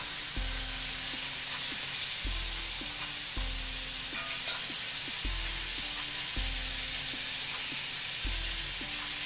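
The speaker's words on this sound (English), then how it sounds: "Gonna let these cook for about 4 to 5 minutes on each side, just get nice color." Beef short ribs sear in a hot pan with a steady, loud, dense sizzle, while a low repeating hum cycles in the background.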